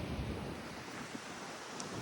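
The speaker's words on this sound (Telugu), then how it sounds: "చెరువులో అనిపించినంత మాత్రం చెరువు కాదు సముద్రమే" Sea waves washing onto the shore during heavy rain, a steady, rough broadband roar with wind noise and no speech.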